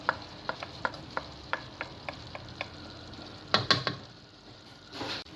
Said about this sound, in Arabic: نقليو مليح يا البنات اللحم ديالنا مع المقادير